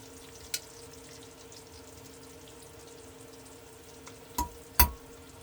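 Onions frying in a pan on a van stove, a faint steady sizzle with a few sharp scrapes and knocks of stirring near the end, no talk.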